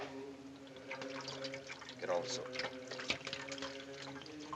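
Antiseptic poured over a person's hands, a continuous trickle and splash of liquid heard under a voice giving instructions.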